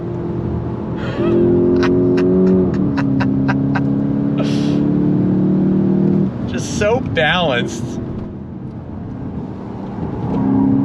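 A 2025 VW GTI Mk8.5 hatchback's engine drones steadily with tyres working through corners, a brief rev change midway, under someone talking over it.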